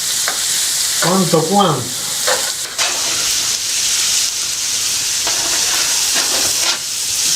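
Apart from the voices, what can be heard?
frying carrot and onion in a pan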